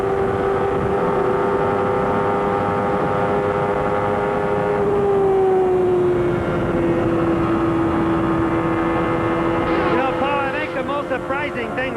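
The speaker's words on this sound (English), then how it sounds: "Listen in the corner just how much Nigel and everyone else have to come out of the throttle." IndyCar race cars at the 1993 Indianapolis 500 scream past with a loud, sustained engine whine that drops in pitch as the drivers ease off the throttle into the corner, over steady crowd and track noise.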